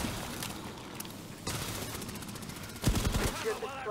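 Gunfire in Rainbow Six Extraction aimed at anchor points, dense overlapping shots and rapid bursts over a noisy, busy game mix, with a sharper, louder volley near the end.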